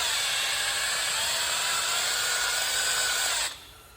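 An Astro drill adapter spins up to set a rivet nut, giving a steady, loud, high-pitched power-tool whine that runs continuously and then stops abruptly near the end.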